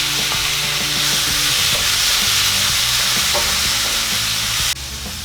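Onion, garlic and tomato sautéing in a pan, with a loud, steady sizzle throughout and repeated stirring scrapes on top, close and without speech until the sound drops sharply near the end.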